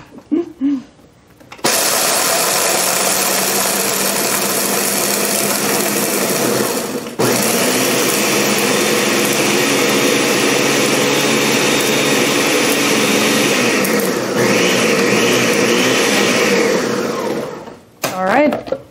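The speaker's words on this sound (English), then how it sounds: "And that's a Ninja blender." A Ninja blender whirs a candy cane dairy-free ice cream base, a loud steady motor drone running for about sixteen seconds after a short start, with a brief pitch change near the end before it cuts off.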